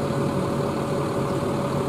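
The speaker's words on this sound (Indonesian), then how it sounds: "Mesinnya juga masih nyala." A PO Haryanto bus sits idling with its engine running, a steady low rumble that holds evenly throughout with no voices over it.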